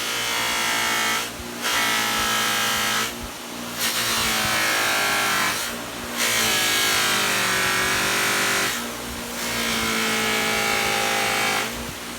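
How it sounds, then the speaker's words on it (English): A new shop bench buffer's electric motor whines loudly and steadily, then dips and bogs down about five times as a wrench is pressed against the spinning wheel to slow and stall it. "I'm going to take a wrench that doesn't need anything, but I want to see if I could slow the wheel down and stall it"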